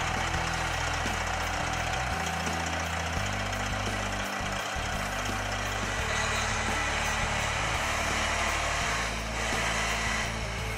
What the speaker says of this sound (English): Engine is a Detroit 14-liter Series 60.